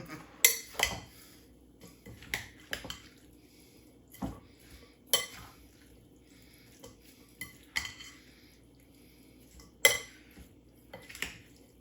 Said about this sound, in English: we're just gonna take a large spoon and just give everything a mix